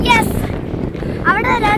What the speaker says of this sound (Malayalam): ഇവിടെ നിന്ന് കഴിഞ്ഞാൽ ഭയങ്കര കാറ്റാണ് ഗൈസ്. ഇവിടെ നമ്മളെ കൂടെ എടുത്തോണ്ട് പോകുന്ന പോലത്തെ കാറ്റ്